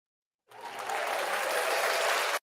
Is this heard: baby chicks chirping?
no